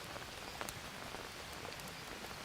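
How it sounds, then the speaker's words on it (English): Steady rain patters on leaves in the VR survival game GHVR, a dense, even hiss of drops with occasional sharper taps, soft and constant, with no voices. "rain hitting the leaves."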